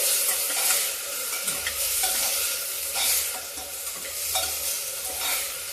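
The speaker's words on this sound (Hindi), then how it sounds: "अब ये जो प्याज भून रहा है, इसी के साथ ये डालिए चना और मूंग।" Onion fries in a pan together with chana and moong dal, producing a loud continuous sizzle overlaid with repeated stirring and scraping strokes, close up and without any talking.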